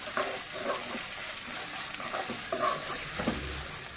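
Chopped tomatoes cooking in oil in a pan for mutton and drumstick curry, a quiet steady sizzle with occasional stirring scrapes and soft clinks, no voices.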